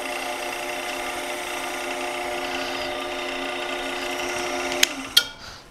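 A steady, high-pitched machine whine runs continuously as a drill bores into a wooden table lamp shaft on a lathe, ending with a couple of sharp clunks as it winds down.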